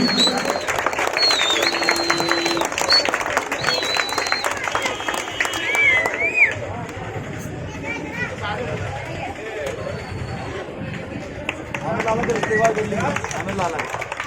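Applause and clapping from a crowd at an AIMIM political party event mix with loud chatter and an amplified voice, with bursts of noisy clapping running throughout.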